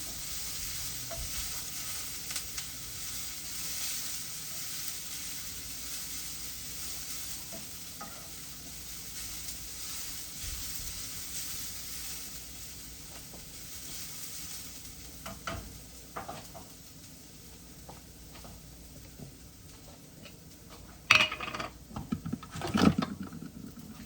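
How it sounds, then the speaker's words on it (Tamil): Grated coconut and curry leaves with mustard seeds sautéing gently in oil in a pan, a soft continuous sizzle with light stirring scrapes and a few sharper spatula knocks near the end. "தேங்காய்ப்பூ, கருவேப்பிலை போட்டு கொஞ்சமாக இப்படி சாதுவாக எண்ணெயில் ஆட்டி கொள்ளலாம்."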